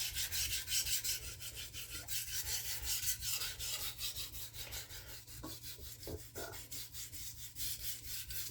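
A thin kitchen knife is sharpened on a fine whetstone in steady, rhythmic rasping strokes, close and continuous, with a faint low hum underneath and no talking.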